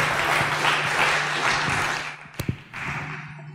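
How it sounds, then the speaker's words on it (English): Audience applause for a panel at a developer conference, a dense wash of clapping that runs for about two seconds before thinning into a few scattered claps and thumps. "Give them a round of applause."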